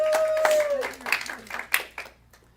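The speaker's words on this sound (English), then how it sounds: "You should clap for that." An audience claps in a brief burst of scattered hand claps that fades out quickly, following a short whistle-like tone at the start.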